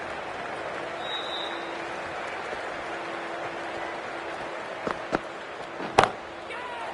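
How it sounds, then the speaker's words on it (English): A cricket stadium crowd at an IPL match between Delhi and Kolkata applauds with a distant, steady patter of clapping and murmur, broken near the end by a few sharp, louder claps or bangs. "they'll receive a warm reception from the crowd"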